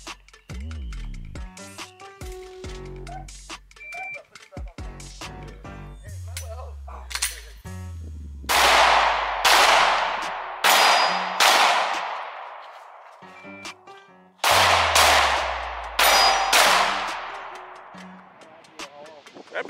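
Gunshots ring off steel targets at an outdoor shooting range, a series of sharp cracks with metallic pings and long decaying echoes, fired in clusters with pauses, and people speaking in the gaps.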